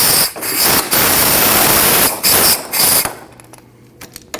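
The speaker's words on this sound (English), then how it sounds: "Now you need to remove your jam nut." A wrench loosens the jam nut on the steering rack tie rod of a 2003-2008 Subaru Forester, giving a loud, close, harsh rattling roar in long bursts with brief pauses, then tapering off into quieter clicks.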